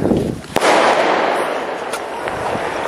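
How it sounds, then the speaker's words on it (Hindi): A sky shot firecracker launches with a sharp pop and a rushing whoosh, then a loud burst and a few fainter crackles outdoors, alone without talk. "अभी इसमें लगाते हैं स्काई शॉट में और देखते गाइस किस तरीके से ऊपर जाता है।"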